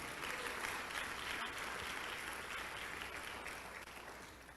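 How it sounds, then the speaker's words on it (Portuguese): Church congregation applauds during a sermon, a broad, sustained wash of clapping heard at a distance and fairly faint, easing slightly toward the end. "Dá um aplauso ao Senhor por isso."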